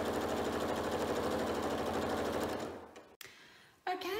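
A sewing machine runs steadily while straight-line quilting a project, a close, even mechanical chatter that stops after a few seconds, followed by small handling clicks and a brief voice.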